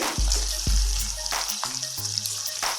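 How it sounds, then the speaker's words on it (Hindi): Whole green chilies fry steadily in oily pickle masala over lowered heat, a loud continuous sizzle and crackle with occasional stirring knocks and scrapes of a spoon against the pan. "आँच मैंने थोड़ी सी नीचे स्लो कर दी है ताकि ये आराम से फ्राई हो सके इस मसाले में"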